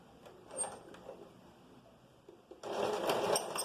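A domestic sewing machine starts up and stitches fabric for a vest, a near, steady mechanical whir that rises sharply after a quieter stretch of faint handling noises.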